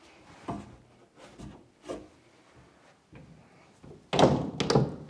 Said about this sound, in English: Checking all the doors.